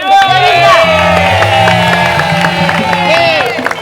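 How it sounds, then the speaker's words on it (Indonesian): A studio audience at the Indonesian comedy show Lawan Tawa cheers, whoops and claps loudly throughout, with shouting voices riding over the steady crowd noise. "kasih tepuk tangan dulu"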